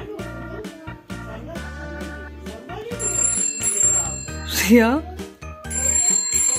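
A phone ringtone chimes in a repeating melodic pattern, with a person speaking briefly over it nearby.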